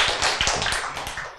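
An audience at a health lecture on autoimmune disease claps briskly in a short, close burst of distinct hand claps that fades slightly toward the end.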